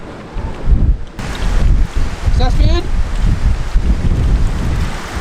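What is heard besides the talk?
strong wind and rain outside a van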